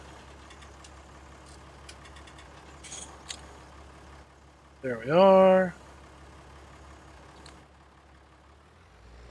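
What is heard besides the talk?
truck engine running in a video game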